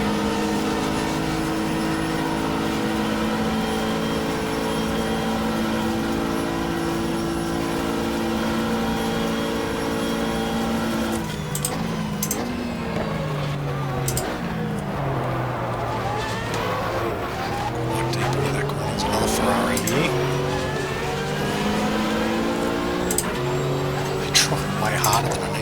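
Race cars at Daytona in the GTR2 video game, including a TWR Porsche and an Oldsmobile, with loud continuous engine whine, cars roaring past with rising and falling pitch, and a commentator talking over the racing.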